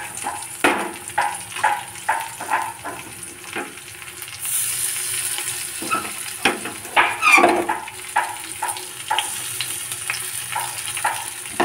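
Boiled potato is tossed into a sizzling kadai and stirred, giving a steady background fry punctuated by rhythmic scraping strokes of a spatula against the pan, close and fairly loud.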